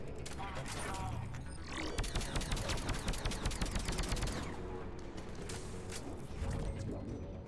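Rapid automatic gunfire rattles in Mass Effect, with dense bursts of shots and mechanical clatter over several seconds, loud and close, while a person talks intermittently underneath.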